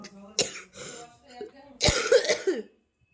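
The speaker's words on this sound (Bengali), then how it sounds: "আমারও কাশি হয়েছে, তোরও কাশি হয়েছে, দু মা বেটিরই" Two bursts of coughing from a mother and daughter who both have coughs, a single sharp cough and then a harsher, longer cough, with brief speech around them.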